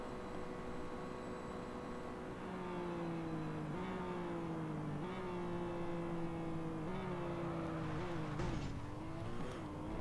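A McLaren P1 GTR races in Real Racing 3. Its loud, steady engine drone climbs and drops through several gear shifts, and a brief tyre skid scrapes near the end.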